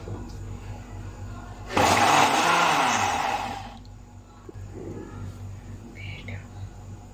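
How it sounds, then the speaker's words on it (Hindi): A loud whirring blender blends mango ice-cream mixture for about two seconds in a burst, then stops, leaving quieter room noise and faint movement. "ब्लेंडर में हमने जल्दी से रेडी करनी है इसको।"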